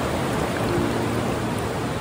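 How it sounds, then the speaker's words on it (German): Atlantic ocean surf on the coast at the Pyrenees' edge rushes in a steady, broad wash of breaking waves, continuous and fairly loud with no voices. "Einmal das Meeresrauschen von dieser Seite."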